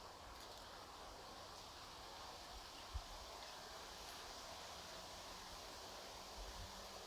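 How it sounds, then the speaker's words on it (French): Steady wind blowing across an open syntropic agroforestry plot near Saint-Tropez, a continuous soft rushing hiss with faint leafy rustle and one brief low thump midway, with no talking. "on se quitte avec le bruit du vent"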